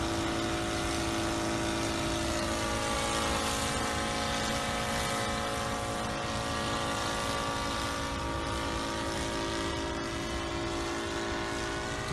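An SK1000 UAV helicopter flies and settles into a hover, giving a loud, constant rotor and motor whine with steady tonal hum throughout, unbroken and without speech.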